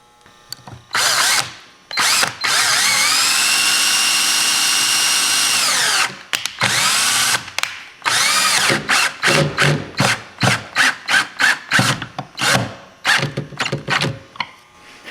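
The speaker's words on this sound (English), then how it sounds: "put the glue on and start screwing" A power drill drives screws into freshly glued wood inside a Terry Resort fifth-wheel camper: one long steady whir, then a series of short rapid bursts, loud and close, with no talk.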